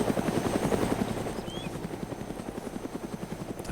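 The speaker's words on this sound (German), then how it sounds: "wenn da ein Heli über mir fliegt" A helicopter passes overhead in the video game DayZ, its rotor throbbing in a fast, steady pulse under a broad engine drone, loud and close, with no voices.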